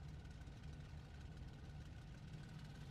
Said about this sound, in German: ich dreh mal die Motoren ein bisschen hoch